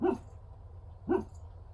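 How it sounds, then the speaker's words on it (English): A small dog gives two short, soft barks about a second apart, quiet and close, over a low steady background hum. "So she's doing a tiny bark."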